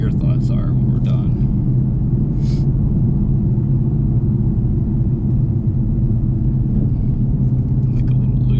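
Deep, steady rumble of an 830 HP Mustang engine idling and cruising on a joy ride, loud and continuous from inside the car, with voices talking over it.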